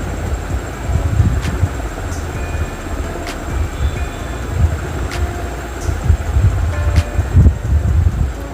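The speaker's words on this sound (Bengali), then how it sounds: "এত ঝোড়ো হাওয়া বইছে" Steady gusty wind roars and buffets continuously, rising and falling in bursts with rumbling low noise throughout.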